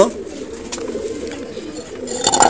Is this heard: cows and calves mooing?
no